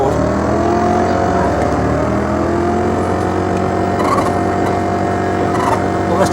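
An engine drones and revs steadily in a 1976 arcade driving game, a loud continuous electronic motor tone with rising and falling pitch lines.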